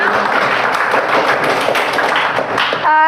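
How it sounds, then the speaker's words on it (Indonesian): Classroom audience applause for two classmates, a dense, steady clatter of many hands clapping loudly and close for about three seconds. "tepuk tangan untuk dua orang teman kita atas jawabannya"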